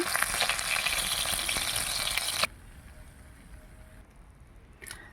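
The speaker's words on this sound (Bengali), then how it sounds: "দেখো কাঠের জালে কত সুন্দর মাছগুলো ভাজা হচ্ছে" Fish fry in hot oil in a pan over a wood fire, a loud close sizzle that abruptly drops to a quieter crackle halfway through, with a brief burst near the end.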